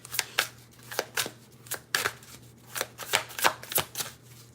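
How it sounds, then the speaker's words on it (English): Tarot cards are shuffled loudly and close up, with a quick series of crisp riffling bursts and slaps in an irregular rhythm. "I be shuffling loud"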